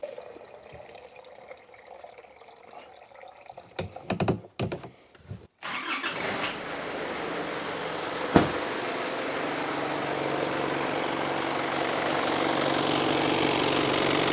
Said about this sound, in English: I've just started the engine up